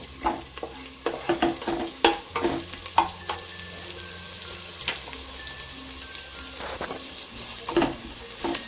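Whole spices, a cinnamon stick, cardamom, star anise, peppercorns, cloves and bay leaf, fry in hot oil in a pan with a steady sizzle, broken by repeated close stirring scrapes and clinks.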